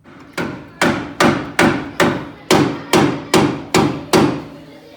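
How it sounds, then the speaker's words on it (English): A hammer pounds on the steering box of a Jeep JK Rubicon, ten loud, evenly spaced metallic strikes at about one per half second, close up with no voices. "After you put a bunch of heat on there and then put your penetrating oil on there, hammer it."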